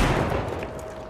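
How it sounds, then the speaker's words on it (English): A frag grenade explodes in the video game The Finals, a dense, loud burst of blast noise that fills the whole moment and fades only slightly as it rumbles on. "Frag grenade out"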